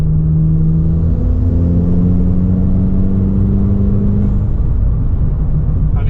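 A tuned 2013 Volkswagen MK6 pulls hard in gear, its engine droning loud and close inside the cabin with a deep rumble and a rising tone as it accelerates.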